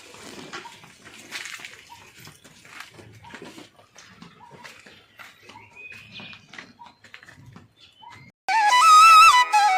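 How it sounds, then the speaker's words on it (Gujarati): Irrigation water runs and trickles steadily through a cumin field outdoors with scattered birds and animal sounds around, then a loud burst of music cuts in at the end. "પાણી વાળ્યું છે મસ્ત મજાનું પાણી હેલું જાય"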